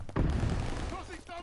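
Grenade blast in the Call of Duty Vanguard beta, a single close heavy boom that rumbles briefly and fades, with a voice heard near the end.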